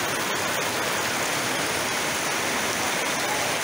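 Heavy rain pours as flood water fills a court area, a dense, constant, loud rushing hiss like a downpour or running water, steady throughout with no break.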